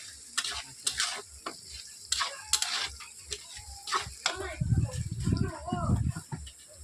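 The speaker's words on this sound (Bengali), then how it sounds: "আলুটা আমি ভাজা ভাজা করে দিচ্ছি" Potatoes frying in a pan for a banana-flower dish, giving a soft sizzle with stirring scrapes, joined by denser low bubbling toward the end, while a person talks over it.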